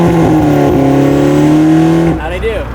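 Fiat 500 Abarth with stock turbocharged exhaust and no muffler, revved hard and loud close by, a steady high-rpm drone held for about two seconds before dropping off sharply.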